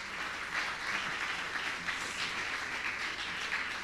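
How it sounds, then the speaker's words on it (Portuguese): Church congregation applauding, a dense, even clapping filling the room for several seconds without speech. "Aplauda Jesus por isso."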